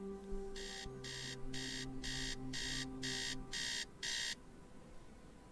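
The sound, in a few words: alarm clock beeping in a video game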